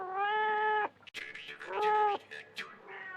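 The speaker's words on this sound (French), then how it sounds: "mais le chat était là" A cat meows several times in drawn-out, tonal cries, close and fairly loud, with shorter rising mews following the first long call.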